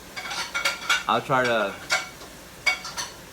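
Dishes, pots and cutlery clatter in short irregular bursts during after-cooking kitchen cleanup, with an exhaust fan's faint hum beneath; a brief voice speaks in the middle.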